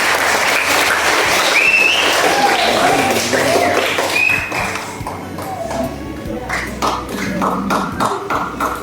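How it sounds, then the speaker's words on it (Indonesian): Festive applause from the audience at a church thanksgiving farewell gathering in Indonesia, loud and sustained clapping with scattered thumps and voices mixed in, easing slightly midway then swelling again. "Kita berikan tepuk tangan yang meriah"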